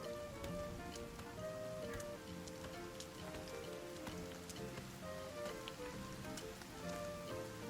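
Steady rain pours down in the Sons of the Forest video game, a dense continuous patter of drops on surfaces filling the whole stretch at even loudness, with no talking.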